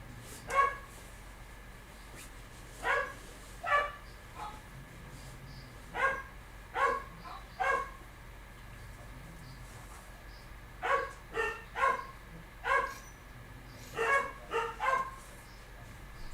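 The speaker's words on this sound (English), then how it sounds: "The puppies are very upset." Puppies bark in short clustered bursts of sharp yips, spaced by pauses, coming from a little distance at moderate loudness over a quiet indoor background.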